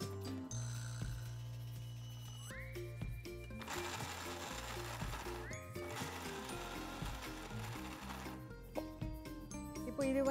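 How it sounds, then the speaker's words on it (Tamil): A kitchen mixer grinds almonds with milk in short bursts, the motor whining up and cutting off between pulses, close by, with clinks and handling noises in the gaps. "இப்போ இது வந்து கொஞ்சம் கொஞ்சமாக பால் விட்டு நான் அரைக்கிறேன்"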